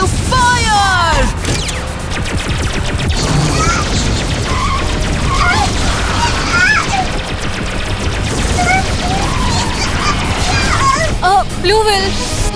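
Cartoon laser blasts fire in quick succession, bursts of crackling explosions and booms mixed with zapping chirps, loud and dense throughout, with character voices shouting over the action.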